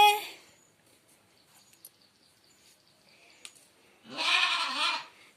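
A four-day-old calf lets out one loud, close, drawn-out bleating call near the end, after a long quiet stretch with only faint small noises.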